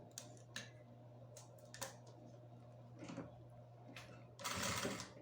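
A sewing machine stitches piping onto bag fabric, a faint steady motor hum punctuated by short clicking runs and a louder burst of stitching near the end.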